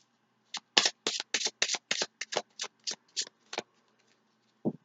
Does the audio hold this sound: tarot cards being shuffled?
yes